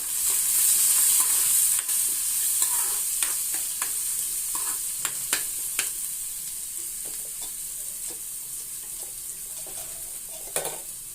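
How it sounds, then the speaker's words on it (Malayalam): Chopped onions and curry leaves sauté in a pan, a steady sizzle with repeated stirring scrapes and clicks from a utensil, close and continuous with no talk. "കുറച്ച് വലിയുള്ളി ചെറുതാക്കി അരിഞ്ഞത്, അതുപോലെ തന്നെ കുറച്ച് കരിവേപ്പില നന്നായിട്ട് വഴണ്ട് വരണം"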